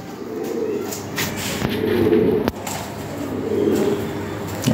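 A yellow Lahori pigeon, a male, coos softly in low, repeated murmurs amid light background noise and a few faint clicks.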